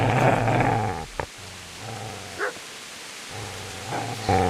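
A dog in the medieval role-playing game Kingdom Come: Deliverance growls and barks in rough, close bursts, with deep snarls and sharper yelps separated by short pauses.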